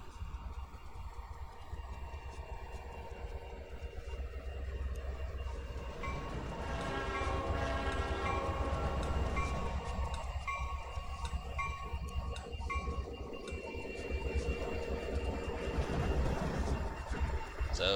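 In a train simulator game on the Carrabassett Valley Railroad, a diesel train led by an SD60M and SD75 rumbles steadily, with a sustained horn blast sounding in the middle over the engine drone.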